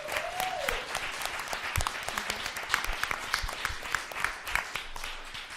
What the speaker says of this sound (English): let's give all of our panelists another big round of applause